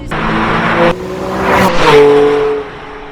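Loud, close engine of a Porsche 997 911 GTS pulling hard through the gears, a rising rev that cuts for a shift and then climbs again to a strong howl before easing off.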